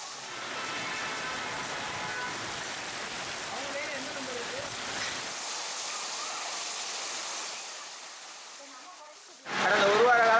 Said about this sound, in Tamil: இன்று எதிர்பாராத விதமாக நல்ல சூறாவளி காற்றுடன் பலத்த மழை பெய்தது